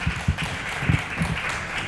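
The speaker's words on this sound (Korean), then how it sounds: "저희 다시 한 번 더 이제 멋진 발제를 해주신 도토리 기획단 단장님께 박수 한 번만 더" A small audience at a university student housing debate forum claps for a presenter, giving scattered, uneven hand claps with a few sharper individual claps standing out, moderately close and without talk.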